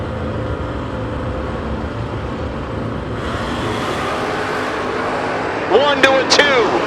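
Drag racing cars, a Mustang box-body among them, make a run at a door-car event: steady loud engine and crowd roar throughout, with public-address announcing over it, a brighter surge near the end.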